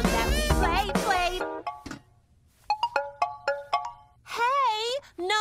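A phone ringtone chimes in a rapid series of bright, bell-like notes during a band practice, set between stretches of sung and spoken voices in an animated scene.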